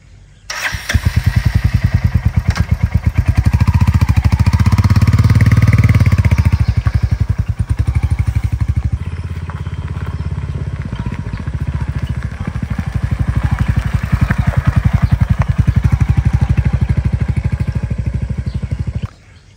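A Royal Enfield Hunter 350 motorcycle rides past close by with a loud, steady engine drone; the throttle rises and falls over roughly twenty seconds, easing off midway before building again.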